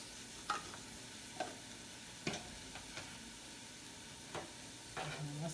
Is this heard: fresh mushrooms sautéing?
yes